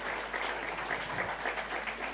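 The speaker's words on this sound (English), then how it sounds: "Can we give him a round of applause?" An audience at a literary dialogue session with Wole Soyinka claps in steady, sustained applause that fills the whole moment evenly.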